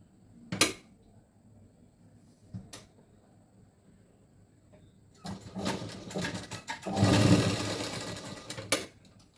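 Sewing machine stitching cloth for feather-like hangings, with short bursts of whirring stitching separated by pauses and a longer steady run near the end, close and fairly quiet.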